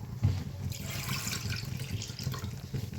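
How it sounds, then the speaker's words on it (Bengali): Hot water pours steadily into a cooking pot of ghugni, a spiced dried-pea curry, as a continuous close splashing and gurgling stream with no talking. "এবার আমি একটু গরম জল দিয়ে দেবো।"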